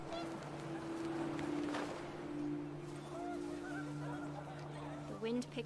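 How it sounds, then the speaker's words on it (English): Panicked geese honk in the What Remains of Edith Finch video game, a few scattered calls over a sustained tonal background, fairly faint. "The wind picked up, and panicked geese appeared and quickly went."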